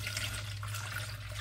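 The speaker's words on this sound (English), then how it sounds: "I'm going to pour it into this bigger bowl" Four cups of warm water pour steadily into a bigger bowl, a soft continuous splashing trickle heard up close with no talking.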